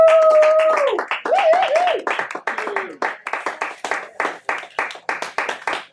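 Small comedy club crowd claps after a stand-up set, scattered individual claps growing sparser, with a few whoops and cheering voices over the start.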